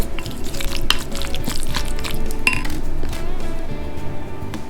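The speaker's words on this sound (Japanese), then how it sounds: "もう一度よく混ぜます。" Chanja, daikon radish and roasted sesame seeds being mixed in a bowl: steady wet stirring and scraping with irregular light clinks of utensil on dish, fairly close and loud, no talking.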